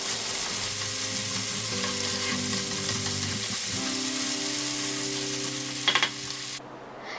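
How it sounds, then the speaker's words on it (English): Garlic, ginger, onion and tomato fry in a pan for a Bengali snakehead fish curry with potato, giving a loud, steady close sizzle with stirring scrapes that cuts off near the end. "This garlic ginger onion tomato needs to fry for few minutes."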